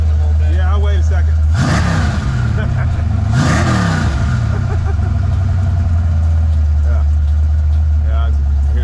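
A 347 Ford Foxbody drag car idles after a cold start, a loud steady low rumble with two sharp throttle blips early on, and people talking over it throughout.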